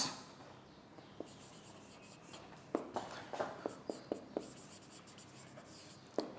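Words are handwritten during an English lesson. A run of short, crisp pen strokes comes in quick succession, separate ticks over faint background noise, with no speech.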